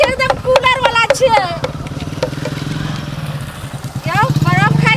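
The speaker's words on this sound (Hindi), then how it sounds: "एगो तो लगे छे मोटरसाइकिल वाला आवे छे" A motorcycle drawing closer, its steady low engine drone rising slightly under bursts of people talking at the start and end.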